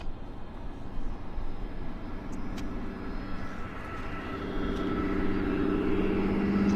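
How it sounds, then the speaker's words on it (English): A WestJet airliner on approach to Vancouver airport at sunset, its steady engine roar building slowly and growing louder over several seconds as it nears, with no talk. "We've got a Westjet 173 from Edmonton on approach here."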